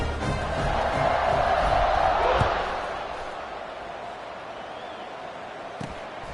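Stadium crowd roars and cheers in the College Football 26 video game, a broad steady swell that peaks then eases back into a lower sustained murmur.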